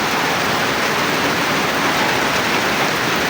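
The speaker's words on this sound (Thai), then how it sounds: "ฝนตกมาเนาะ" Steady rain falls over green mountains near rice fields in Laos during the planting season. It makes a continuous, dense wash of drops that stays even and fairly loud throughout, with no voices.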